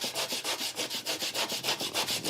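An ingredient for a Cameroonian dish being grated by hand at a food stand at the Foire de Paris: a steady, rhythmic rasping scrape, about four strokes per second, loud and close with no talking.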